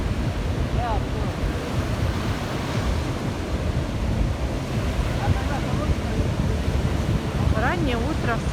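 Black Sea surf breaking on an empty early-morning beach at Anapa, a steady broadband wash of waves with wind buffeting the microphone throughout and faint voice-like sounds near the end.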